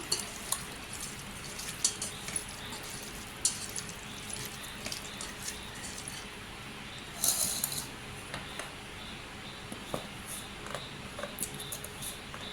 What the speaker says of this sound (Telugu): బాగా బాగా కలుపుతున్నాను